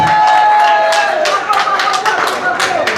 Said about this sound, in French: Applaudissez ces autres-là